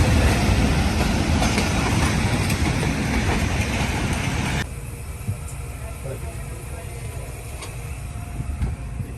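A train pulling into a village station in Pakistan, loud rumbling and clattering wheels on the rails that drop to a quieter rolling rattle as it slows, with someone talking over it.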